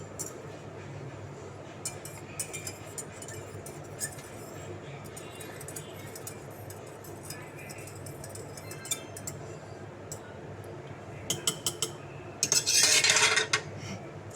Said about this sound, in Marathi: चमच्याने घोळूया थोडं